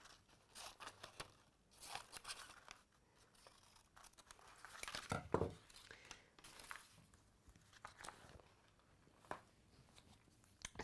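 Scissors snip roughly around a small paper feather template traced for a textile project, a series of quiet crisp cuts and rustles of paper spread irregularly, close and faint.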